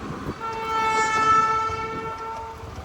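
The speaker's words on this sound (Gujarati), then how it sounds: "આપણી ટ્રેન દેખાય અહીંથી અમદાવાદ વાળી" An Ahmedabad-bound train passes, sounding a loud, sustained horn for over two seconds above a rumbling, rattling wheel noise before the blast fades.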